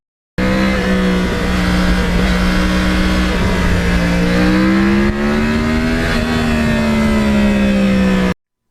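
A 2009 Yamaha R1 motorcycle with a crossplane engine revs loudly and close up, its pitch rising and falling over a sustained run, with no talking.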